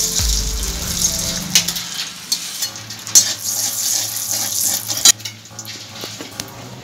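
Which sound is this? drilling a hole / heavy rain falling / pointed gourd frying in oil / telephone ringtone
pointed gourd frying in oil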